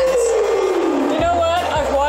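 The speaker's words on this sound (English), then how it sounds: "Listening to that crowd noise." Basketball arena crowd in Toronto at a Raptors game, a loud sustained roar with a sweeping horn-like tone, while someone talks over the noise.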